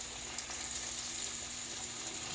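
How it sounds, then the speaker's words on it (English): Pork chops frying in a pan, being browned on both sides for smothered pork chops, give off a faint, steady sizzle with a low background hum throughout. "we just keep frying it till it become brown on both sides"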